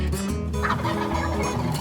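A wild turkey gobbles during the spring hunting season opener in Kentucky, a rapid, rattling call rolling over a steady wash of outdoor background noise.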